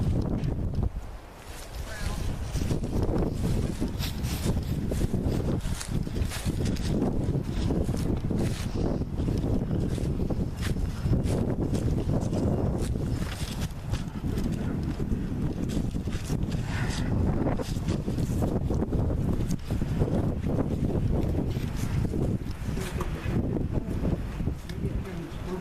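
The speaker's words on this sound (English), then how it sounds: "Get in the center where the wind's not blowing so bad." Strong gusty wind roars steadily across the open grounds of an abandoned dairy farm at a former state mental facility, a continuous loud rush with buffeting on the microphone throughout.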